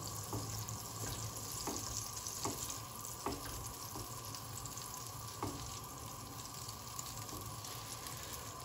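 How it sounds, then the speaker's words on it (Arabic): Butter melts into olive oil in a frying pan, sizzling in a steady, continuous hiss at close range, with a few faint stirring clicks and no voices. "هنا بنات المقله درت شويه ديال زيت البلديه، غادي نضيف عليه مرسق هكايا صغير من الزبده"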